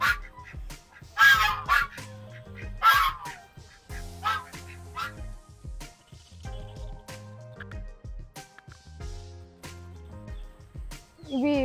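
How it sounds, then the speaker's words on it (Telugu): Ducks and chickens that have wandered into a house give repeated quacks and fowl calls in bursts, close by, with some dripping and clattering between the calls. "ఇదో కోళ్ళు కూడా ఇంట్లోకి వచ్చేసాయి, బాతులు కూడా ఇంట్లోకి వచ్చేసాయి అన్నమాట"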